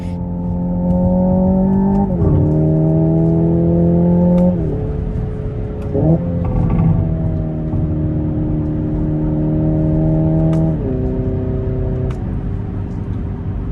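The synthetic driving sound of a Hyundai Ioniq 5 N electric car hums loudly throughout, with layered pitches that drop and rise in steps like gear shifts, sustained with no pauses.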